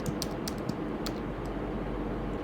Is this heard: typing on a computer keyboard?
yes